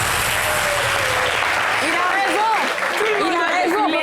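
Steady crowd applause at an independence celebration parade in Yopougon, a dense wash of clapping heard throughout, with a voice speaking over it.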